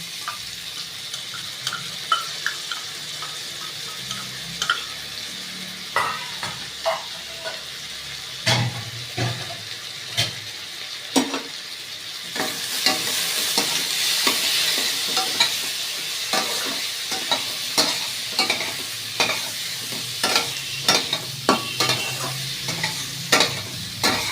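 Turmeric, cumin and coriander paste mixed with water sizzles steadily in a hot pan, with a rising hiss partway through and frequent close clicks and scrapes of stirring.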